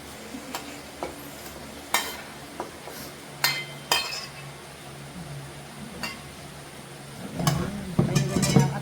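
Liver and vegetables being stirred in a frying pan for pancit canton, with a spatula scraping and clinking against the metal in scattered strokes over a low sizzle, growing busier and louder toward the end.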